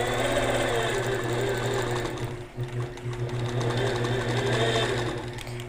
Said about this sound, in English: this line that we're stitching now is probably going to be hidden in our binding